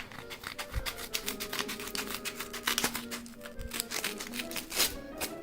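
Package tape and cardboard being cut and torn open by hand around a mailed video game parcel: a close, irregular run of scratchy slicing, rustling and soft knocks, with no talking.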